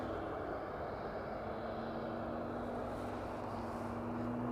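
A Boeing 767 passes overhead near East Midlands Airport, above the M1 motorway, giving a steady, even jet roar with a low drone that holds throughout, with no voices.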